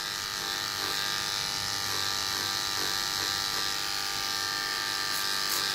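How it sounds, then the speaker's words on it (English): An electric hair clipper buzzes continuously up close as it blends a fade haircut, a steady motor hum with slight changes in pitch as it moves through hair, and no talking. "Reverse the grip of the clipper, and now work on the blend."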